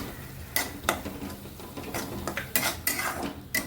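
Cauliflower, pea and potato curry is stirred in a pan while chili powder and garam masala are mixed in, with brisk metal spoon scrapes and clanks over a faint sizzle.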